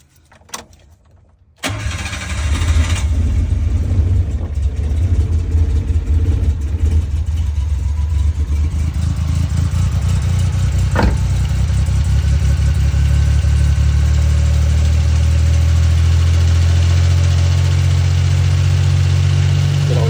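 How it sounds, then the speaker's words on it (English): Suzuki Carry DD51T engine cranks after a short quiet moment, catches and settles into a steady, slightly rough idle that holds close and loud to the end, with no talking. "Let's start the car and make sure it runs."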